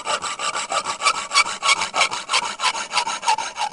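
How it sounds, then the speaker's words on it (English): A hand saw rasps back and forth through wood as a game sound effect, steady rhythmic strokes about four per second, close and moderately loud, with no other sounds. "a saw would match the wood window."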